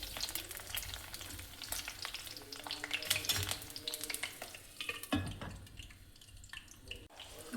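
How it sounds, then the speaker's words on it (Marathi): Bhatai vegetable frying in hot oil for a Vidarbha-style Saoji curry, a close, steady crackling sizzle with spattering pops and occasional stirring clatter that eases off toward the end. "पहिले भटईला थोडंसं तेलात होऊ द्यायचं"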